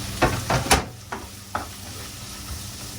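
Chopped onions go into a hot pan at home and are stirred, giving a few bright sizzling scrapes close by, spaced and fading to a low background crackle, with no talking.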